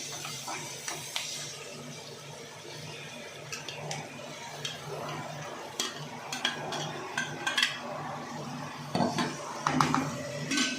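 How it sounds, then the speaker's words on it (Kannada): Fried onions and field beans are stirred in a pan, giving repeated scraping and metallic clinks from a spoon over a soft sizzle that grows busier toward the end. "ಈಗ ಈರುಳ್ಳಿ ಎಲ್ಲ ಚೆನ್ನಾಗಿ ಫ್ರೈ ಆಗಿದೆ ಕಾಳು ಹಾಕ್ಕೊಂಡು ಚೆನ್ನಾಗಿ ಒಳ್ಳೆ ಮಿಕ್ಸ್ ಕೊಟ್ಕೊಳ್ಳೋಣ"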